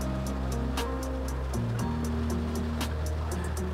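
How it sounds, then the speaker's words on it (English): Steady heavy rain drums on the roof of a truck parked at the Texas City Dike during a thunderstorm, a dense continuous wash with brief louder gusts of drops, heard from inside the cab. "It is still raining. I'm still stuck in my truck."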